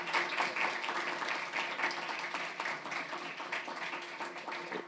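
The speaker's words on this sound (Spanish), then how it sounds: "pido que le den un grande aplauso" An audience applauds the architect Víctor at the close of his talk, a steady wash of many hands clapping that stays fairly loud and continuous throughout, with no speech over it.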